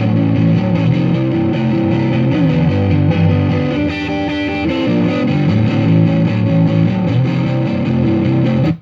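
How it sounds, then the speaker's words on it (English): A distorted electric guitar plays a driven chord riff through a Tonex Tight Deluxe preset modelled on a Fender '65 Deluxe Reverb, loud and sustained, with no talk. "This one's called Tight Deluxe. It's a drive, Fender 65 Deluxe Reverb"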